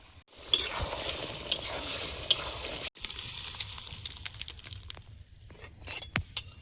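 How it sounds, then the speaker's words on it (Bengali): Papad frying in hot oil at home, a continuous sizzle with occasional stirring clinks, fairly close and steady, with no talking. "পাঁপড়টা ভেজে নেব, পাঁপড়গুলো ভেজে নেব।"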